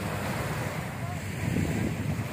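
Sea breeze rushes steadily past the microphone at Dolomite Beach in Manila, with the soft wash of waves underneath and no clear voices.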